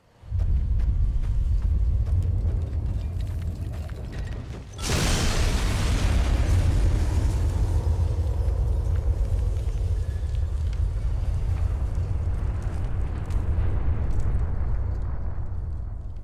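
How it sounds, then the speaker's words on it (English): A huge explosion in the Fallout: New Vegas game as the Brotherhood of Steel bunker is blown up: a sudden deep boom that drops out and then swells into a long, loud, sustained rumble filling the whole stretch. "when you blow up the Brotherhood of Steel, you don't just see a little bit of smoke coming out of the vents anymore. You get a proper big explosion."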